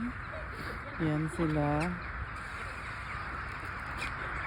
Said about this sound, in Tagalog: Ang ingay ng mga ibon na yan, no?